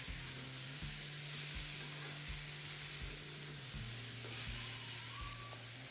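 Chopped tomatoes for tomato daal fry in a pan with a soft, even sizzle, while a spoon knocks and scrapes against the pan at regular intervals.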